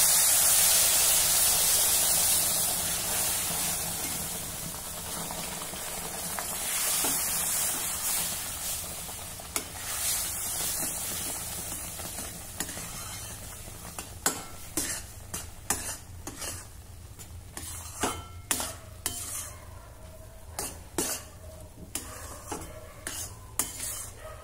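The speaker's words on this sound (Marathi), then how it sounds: "आता यामध्ये गरम केलेलं दूध घालूया." Hot milk hisses and sizzles into roasted semolina with dry fruits in a pan, then a spoon stirs with steady scraping and repeated light metallic clicks against the pan, close and clear.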